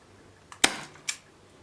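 An ICS Makarov airsoft pistol fitted with a suppressor fires a short, sharp crack, followed about half a second later by a fainter second snap, with quiet room tone around them.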